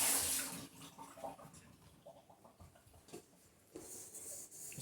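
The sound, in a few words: tap water running while washing a bowl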